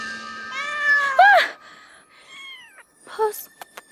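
A cat meows several times, drawn-out rising and falling cries up close, with a few shorter mews and soft clicks trailing after a pause.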